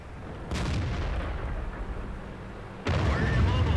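Tank cannon fire in World of Tanks, with T29, T32 and M103 heavy tanks in a battle; two heavy booming shots, the second sharper and louder near the end, over a continuous low rumble.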